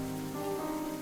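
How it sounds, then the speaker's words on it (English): Steady rain in the video game Ender Lilies, a continuous hiss of rainfall over layered sustained musical tones, short and unbroken with no voices. "You think me the sort of wretch to leave a child out in this horrid rain?"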